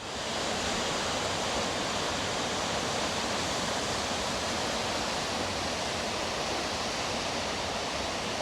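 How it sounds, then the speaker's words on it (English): Water cascades tumbling down a rocky stream in Glen Nevis, Scotland, a steady, loud broadband rush that holds unbroken throughout with no voices over it. "so these cascades are just gorgeous"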